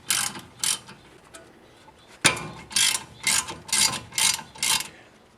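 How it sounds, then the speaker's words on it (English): A ratchet loosens the brake caliper guide pins on a BMW 3 Series (E30, E36, E46), giving about eight close, crisp bursts of rapid clicking with short pauses between them and no speech. "So next step is to just loosen up your caliper guide pin. I'm loosening these guys up."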